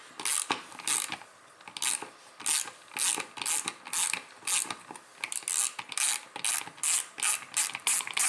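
A ratchet wrench clicks in steady back-and-forth bursts as a nut and bolt are tightened on a 48-year-old 5 horsepower Briggs and Stratton engine, close and fairly quiet, with no talking.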